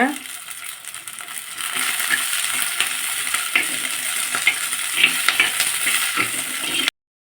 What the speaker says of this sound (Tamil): நல்லா வெங்காயமும் இந்த வெள்ளைப்பூடும் நல்லா பொன்னரமாக வதங்கட்டோங்க